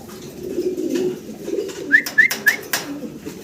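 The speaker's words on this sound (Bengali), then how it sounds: "চমৎকার একজোড়া লং ফেস কবুতর আপনারা দর্শক দেখতে পারতেছেন" A pair of long face pigeons, a male and a female, coo softly at a pigeon farm, low rolling murmurs with a few brief higher chirps over faint background noise.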